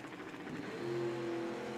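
A 1927 Ford Truck Roadster drag car engine idles at the drag strip, a low, steady harmonic rumble heard faint and distant that swells slightly toward the end.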